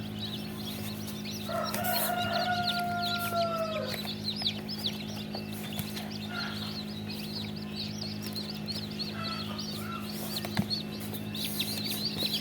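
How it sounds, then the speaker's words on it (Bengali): Chickens at a Tiger breed poultry farm in Bakshiganj, Jamalpur, clucking over a steady mechanical hum, with one drawn-out rooster-like call and scattered faint chirps and clucks throughout. "এগুলো অরিজিনাল টাইগার মুরগির বাচ্চা।"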